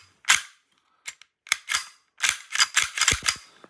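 A Tokyo Marui gas blowback Glock 17 airsoft pistol with a steel slide cycles close by, giving a string of sharp, snappy cracks, first spaced apart and then in a quicker cluster.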